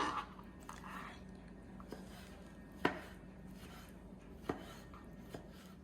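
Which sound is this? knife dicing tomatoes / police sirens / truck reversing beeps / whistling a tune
knife dicing tomatoes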